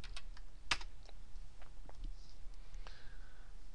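Typing on a computer keyboard while entering chart labels in a spreadsheet, with a scattering of light, irregular key clicks and one sharper tap, close and fairly quiet, with no talking.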